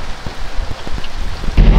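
Heavy rain falling steadily near a boat whose engine has broken down, with dense hiss and scattered drops striking a surface and a louder burst near the end.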